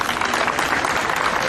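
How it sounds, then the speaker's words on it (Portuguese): A brief burst of dense crowd applause at a parish biblical walk event, continuous clapping with no pauses. "Palmas para a comunidade de Emanuel"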